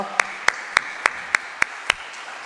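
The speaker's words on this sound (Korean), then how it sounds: "우리 하나님께 영광의 박수 올려드리도록 하겠습니다" A church congregation claps in unison, about seven crisp, evenly spaced claps in a steady rhythm, loud and close.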